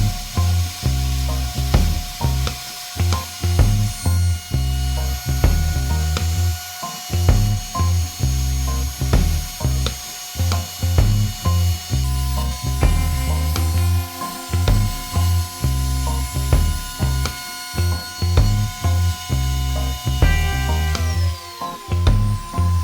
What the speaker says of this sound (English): I'm going to go get on with doing my tongue and grooves on my boards on my router table